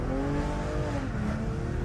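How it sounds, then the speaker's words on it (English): BMW M340i under hard acceleration with tires spinning, a steady loud engine drone with rising tonal whine and tire noise, continuous and close with no talking. "You can see I'm spinning there."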